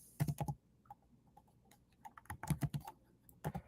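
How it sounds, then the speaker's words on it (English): Typing on a computer keyboard while entering a product name into a cloud marketplace search: quick bursts of close, crisp key clicks in two clusters separated by a short quiet pause, with no one talking. "you're going to type in Integral"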